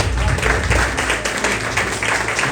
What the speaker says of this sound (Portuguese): Receba o nosso pastor com palmas